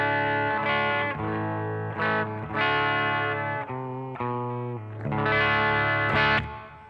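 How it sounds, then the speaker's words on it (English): Electric guitar plays sustained chords and ringing notes in a clean tone with slight grit and a touch of reverb, with no voices. "Here's my clean tone. Just basically got a little bit of hair on it and a little bit of reverb."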